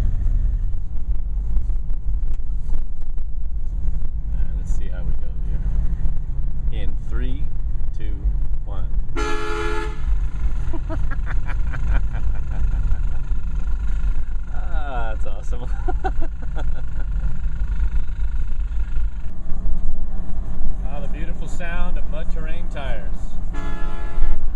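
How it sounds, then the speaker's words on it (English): Train-style air horns fitted to a neighbor's vehicle in a suburban street give a short, loud honk partway through, then faint later toots over steady wind and engine rumble, with a voice talking at times. "his train horns when he goes by my house"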